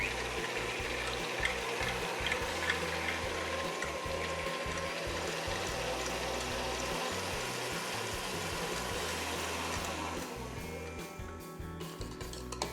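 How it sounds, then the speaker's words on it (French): Stand mixer whisk beating chilled cream in a steel bowl, a steady dense whirring and rattling that runs continuously and grows busier and faster toward the end, with no talk over it. "J'installe la cuve avec le fouet et je mets à monter doucement au début et progressivement j'accélère"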